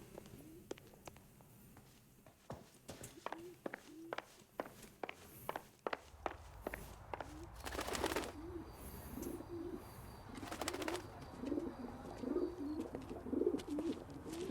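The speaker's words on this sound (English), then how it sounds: "Let's go see the pigeons." Pigeons cooing on a rooftop in L.A. Noire, soft repeated low coos over a run of footsteps, with bursts of wing flapping in the later part.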